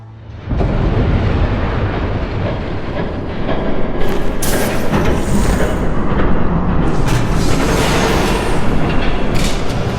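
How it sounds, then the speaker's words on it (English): A video game train roars past loudly with a dense, continuous rumble and clatter, staying close and heavy throughout. "There's a train coming."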